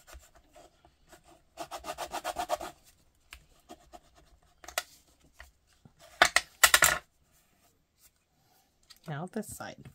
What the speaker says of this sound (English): take my bone folder, stick it in there, and now I'm going to rub